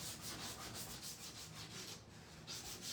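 Coarse-grit sandpaper rubs the outside edges of a wooden reindeer decoration in quick, rhythmic back-and-forth strokes, close and steady throughout with no talking.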